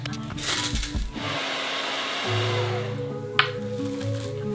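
A blow dryer whirs loudly and steadily, its pitch shifting as it runs, with a brief sharp click near the end.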